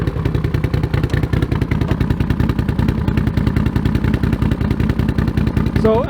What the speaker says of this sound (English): So at idle, it's already 10 decibels higher.